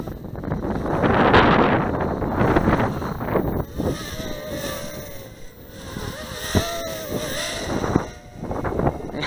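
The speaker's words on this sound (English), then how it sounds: "really windy out right now" Strong wind buffeting a microphone outdoors during a JJRC JJ-1000 drone flight, a loud continuous low rumble that surges and dips throughout with a faint whine beneath.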